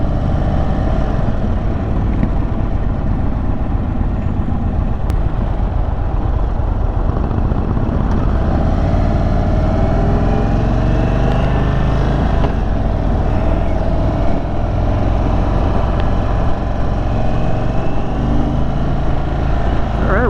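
Indian Chief motorcycle on a demo test ride, a loud, steady engine and road rumble with heavy wind buffeting throughout, the motor droning continuously up close with no pauses.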